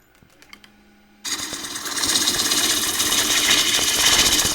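Wood lathe pull cut shaping a bowl profile: after a few quiet taps, a tool bites into the spinning wood with a sudden steady shaving hiss and rumble that builds slightly and holds, loud and close.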